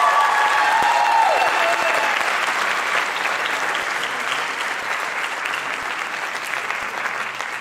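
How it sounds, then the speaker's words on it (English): Sustained audience applause following a dance performance at a Bharatanatyam debut recital, a dense steady wash of clapping that stays loud throughout and eases only slightly toward the end, with faint tonal sounds early on. "Please, can we get another round of applause for that?"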